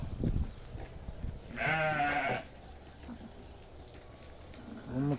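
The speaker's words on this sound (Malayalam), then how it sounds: "ഇതാണ് നമ്മൾ ആടുകൾ കേട്ടോ ബെർബറി എന്നാണ് ആട് കേട്ടോ" A Barbari goat on a farm in the cold season gives one clear, drawn-out bleat at close range, with quieter shuffling and a brief voice around it.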